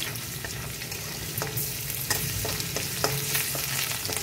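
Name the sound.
garlic frying in a pan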